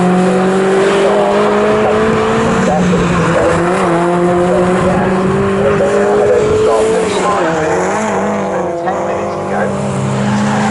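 MG race cars at full throttle on the Snetterton circuit, loud close engine whines rising and falling through gear changes over the whole stretch, with a commentator's voice running underneath.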